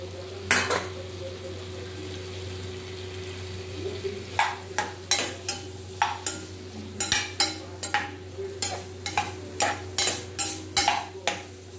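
Vegetables fry in a pan with green chili and asafoetida, a low steady sizzle under repeated close scraping and clattering strokes of a spoon stirring against the pan, coming faster in the second half.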